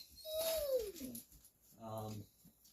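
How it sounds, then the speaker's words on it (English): Indoor dogs whining to be let out, a high drawn-out whine sliding downward followed by a short tonal whimper, moderately close in a quiet room. "I'm sure you could hear the dogs. They're whining."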